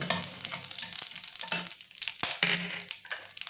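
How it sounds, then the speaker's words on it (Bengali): Whole garam masala, cracked cardamom and cumin seeds fry in hot oil for a Bengali aloo chingri dish, giving a close, crackling sizzle with stirring scrapes and brief quieter gaps. "আমি এলাচটা ফাটিয়ে দিয়েছিলাম, দিয়ে দিলাম গোটা গরম মশলা, দিয়ে দেবো গোটা জিরেটা"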